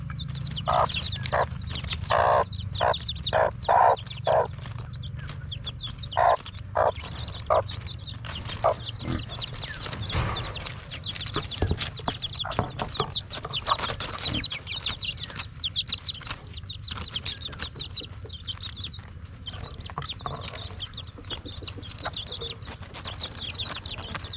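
Chickens cluck loudly in short, repeated bursts close by, with a busy background of more clucking and occasional flapping over a low steady rumble.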